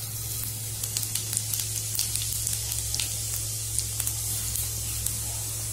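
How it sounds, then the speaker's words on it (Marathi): Cumin seeds sizzling in a mix of oil and ghee in a kadhai, a steady bright crackling hiss with scattered pops, close and loud with no voices. "याच्यामध्ये आपण आता 2 मोठे चमचे जिरे घालणार आहे."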